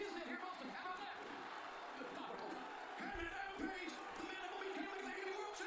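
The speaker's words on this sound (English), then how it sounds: "Listen to the crowd." A large wrestling arena crowd roars and cheers continuously, a dense wash of voices with swelling shouts, heard from within the audience.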